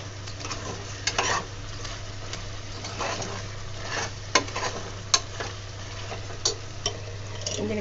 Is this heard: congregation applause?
no